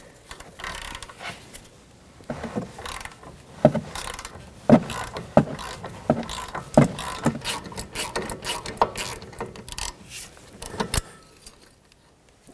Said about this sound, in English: let's see if we can break the nut free